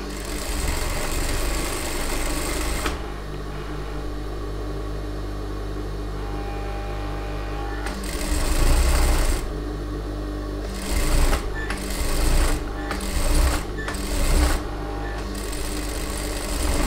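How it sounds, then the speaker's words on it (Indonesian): An electric sewing machine stitches fabric in a straight seam, running in long continuous whirring bursts then shorter stop-start runs, close and loud over a constant low hum. "Kita jahit lagi sebelah ya. Jahit lagi sebelah ikut besar 3 inci ya."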